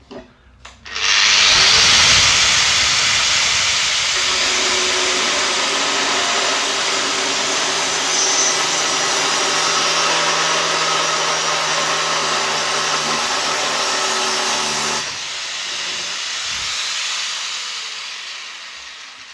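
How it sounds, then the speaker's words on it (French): A steady, loud grinding whir of a hole saw drilling into hard ceramic tile for a shower fixture, running continuously for about fifteen seconds before easing to a lower hum. "quand je vais commencer à percer, je perce comme ça"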